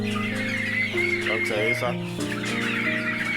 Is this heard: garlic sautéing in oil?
no